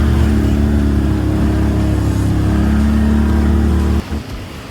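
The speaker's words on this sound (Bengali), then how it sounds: "তো ফার্স্ট টাইম এটিপি ট্রাই করবো বলে আমরা এটিপি রাইড করছি।" An ATV engine runs loud and close in Solang Valley near Manali, holding a steady droning rev before cutting down abruptly near the end.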